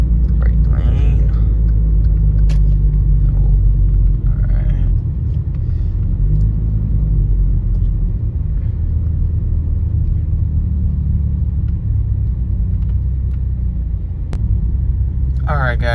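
Hyundai Genesis Coupe driving on a road, a steady low engine and road rumble throughout from inside the cabin, with brief faint voice sounds near the start.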